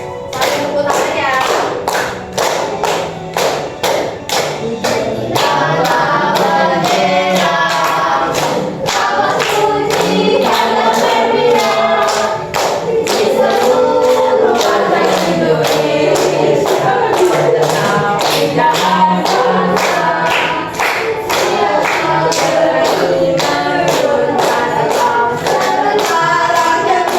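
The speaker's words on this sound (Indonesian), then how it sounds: "Sambil tepuk tangan ya." A standing school class claps steadily in time for a long stretch. The dense, regular hand claps are accompanied by voices singing or chanting along.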